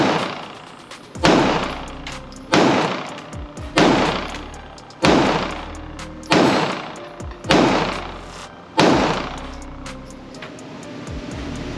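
Loud, close pistol shots from a compact Staccato CS handgun, seven sharp reports fired at a steady, unhurried pace, each with a short ringing decay and no talking.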